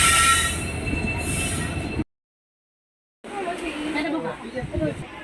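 A passenger train runs on its rails with a loud, steady rumble and high wheel squeal. The sound drops out into a short silent gap midway, then returns, with faint voices in the background.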